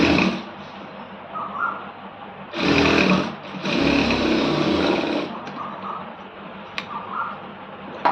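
A sewing machine stitches down a folded quarter-inch fabric hem in two short close runs, a brief burst then a longer one, with quieter room sound before, between and after.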